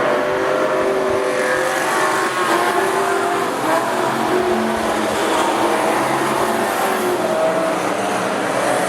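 Race cars roar around the dirt oval at Rockhampton Speedway in an AMCA meeting, a steady dense engine drone with revving and passing cars, loud and continuous throughout with no talk.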